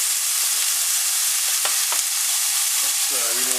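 Pierogies fry in oil in a pan, a steady close sizzle with a few soft pops and clicks from stirring, and no voices over it.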